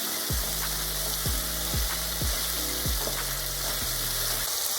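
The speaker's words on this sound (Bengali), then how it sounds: "আদা কাঁচা লঙ্কা আর টমেটোর পেস্টটাকে আমি খুব ভালোভাবে তেলের সঙ্গে কষিয়ে নিয়েছি।" Ginger, green chili and tomato paste fry in oil over a low-to-medium gas flame, giving a loud, dense sizzle that continues without a break.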